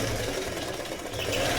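A Pico sewing machine runs steadily at stitch setting 5 while embroidering fabric, a continuous close mechanical whir with a rapid needle rhythm.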